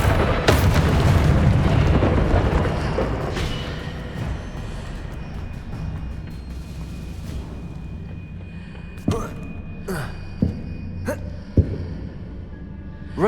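A Confringo fire spell explodes in Hogwarts Legacy on PC during Charles Rookwood's Trial, a loud booming blast that rumbles and slowly fades, followed by several sharp thuds and pops from later spell impacts.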